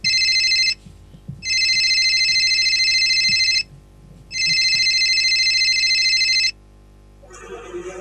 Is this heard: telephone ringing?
yes